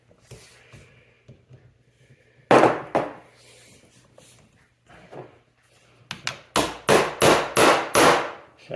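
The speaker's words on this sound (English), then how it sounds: "Now I'm going to twist it while I hammer." Hammer blows strike a stuck screw on a 1965 Suzuki K11 kick start, a few scattered light taps giving way to a quick run of loud, sharp, evenly spaced strikes close by.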